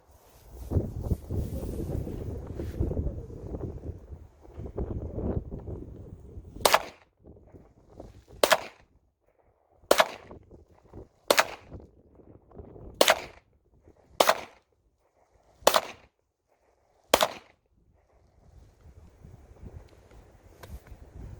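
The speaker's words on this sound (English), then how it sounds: "I'm going to put it on fire, and we're going to take some shots now." Single gunshots from a German WWII MP41 submachine gun, eight sharp loud cracks at uneven intervals after a stretch of wind noise, with quiet gaps between them.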